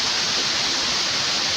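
Waterfall at Paraíso do Cerrado in Damianópolis, Goiás, cascading in a steady, loud, dense roar of rushing water with no voices.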